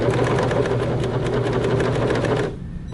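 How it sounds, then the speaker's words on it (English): Serger overlocking a fabric seam along a 5/8 inch stitching line, running as a loud, steady, fast mechanical whir for about two and a half seconds before it cuts off and falls quiet. "As you're serging, be careful. Your serger goes much faster than your sewing machine does"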